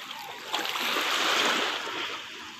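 Calm sea water washes and swishes gently nearby at Manaoag, Pangasinan, a soft steady hiss that swells slightly in the middle and eases off again.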